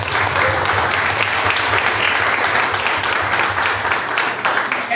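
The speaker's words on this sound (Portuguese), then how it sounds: "Outra salva de palmas para Jesus." Steady, full applause from a church congregation clapping for Jesus, continuous and dense throughout, with a low hum beneath the crowd.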